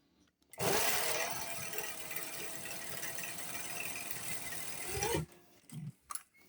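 A sewing machine stitching at its largest stitch length, setting 7, runs with a close, steady mechanical whir for about four and a half seconds, then stops with a few clicks.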